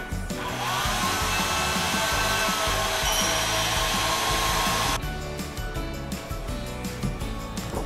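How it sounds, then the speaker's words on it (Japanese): A hair dryer blows steadily on wet hair while styling, a loud continuous roaring whoosh close to the mic that shifts in pitch midway as the airflow changes, running without pause throughout. "濡らしたらドライヤーでこういう風に乾かします"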